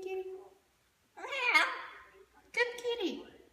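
A macaw imitates a cat meowing, giving several drawn-out, wavering meow calls close by, separated by short pauses.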